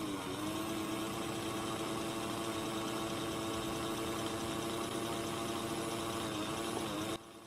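A Hornby model train motor runs with a steady, fairly quiet mechanical hum and buzz for about seven seconds, then drops off abruptly near the end.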